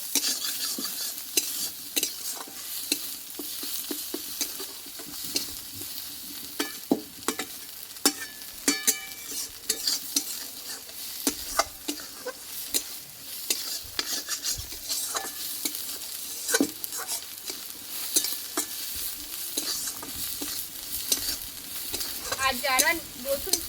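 Ground curry leaf paste frying in a pan for a Bengali curry leaf dish, a soft continuous sizzle broken by frequent clacking spoon stirs against the pan, close and steady with no talking.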